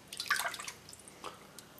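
Beans are dunked into water and rubbed by hand to clean them before canning, giving a few soft splashes and drips, brightest early on and followed by a lighter trickle, with no voices.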